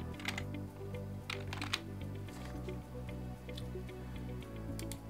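Soft keystrokes tap out a short word on a computer keyboard, quick and close, layered over a steady low musical hum.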